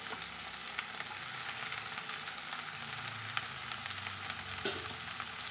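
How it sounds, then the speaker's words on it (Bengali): Spinach stirred as it fries in a pan for a Bengali chorchori with small shrimp. A steady, close sizzle with scattered scraping stir sounds throughout, and no talking. "পালং শাক দেখতেই এতটা, এক্ষুনি কমে যাবে। তো চলো একটু নেড়ে দিই, ভালো করে।"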